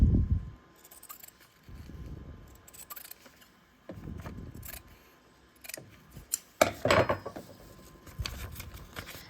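Scissors snip fabric close up as a paper-pieced quilt block is trimmed, giving several separate crisp cutting bursts with quiet handling noises between them.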